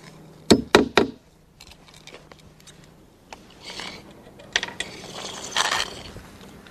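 A chalk line reel rattles and clicks as it is pulled and rewound while marking deck boards for a cut, with a few sharp snaps and ratcheting bursts close by.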